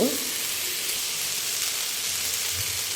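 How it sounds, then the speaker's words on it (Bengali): Washed, drained broken rice grains frying in a pan, giving a steady, even hiss with no breaks, close and moderately quiet throughout. "আমি এখন এটাকে একটু ভাজা ভাজা করে নিব"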